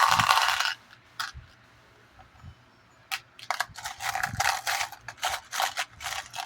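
Jewelry findings being cut with a hand tool: a scattering of sharp metallic clicks and snips, some close and crisp, separated by quiet gaps, with light handling rustle in between.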